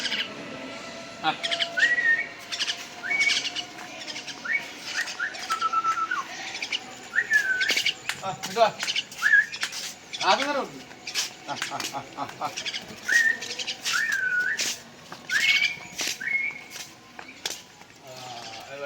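Pet birds that flew back after being called from about 100 meters away chirp and whistle in repeated bright calls, some with flapping, close and lively throughout, with occasional background voices.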